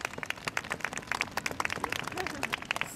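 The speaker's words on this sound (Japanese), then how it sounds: "大きな拍手をお願いいたします。" Audience applause at a Disney princess program, a dense patter of many hands clapping fairly close, with a voice speaking over it.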